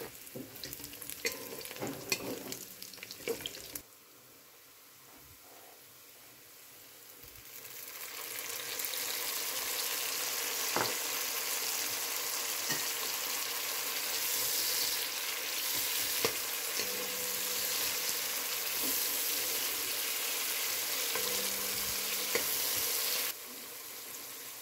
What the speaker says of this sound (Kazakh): Piyazды қуырып, сәбіз, томат пастасына қосып, 5-6 минут қуырамыз.